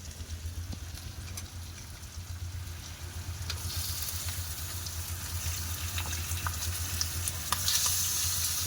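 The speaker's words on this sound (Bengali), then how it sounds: "মশলাটা খুব ভালোভাবে কষিয়ে নেব মাংসটা দিয়ে দেবো" Country chicken pieces frying in spice masala in a rural Bengal kitchen, giving a steady low sizzle with scraping stirs throughout, close and moderately loud, with no talking.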